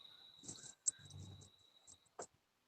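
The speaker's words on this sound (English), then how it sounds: "Crickets." Crickets chirp in a quiet night setting, a thin steady high trill with faint soft pulses and a couple of brief louder clicks, distant and low in level with no voices.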